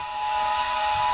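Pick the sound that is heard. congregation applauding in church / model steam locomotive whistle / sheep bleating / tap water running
model steam locomotive whistle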